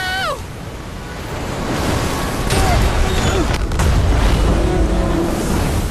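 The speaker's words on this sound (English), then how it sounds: "a massive wave slammed the vessel into hidden rocks." Violent storm waves pound a ship and slam it into hidden rocks, a loud roaring surge of water and wind with deep booming impacts, mixed with brief whistling tones and dramatic effects.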